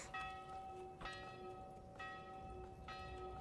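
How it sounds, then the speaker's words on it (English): A church bell in the Manor Lords video game tolls four evenly spaced strikes, each ringing on with a long, faint, shimmering decay over quiet background noise. "Church Bell."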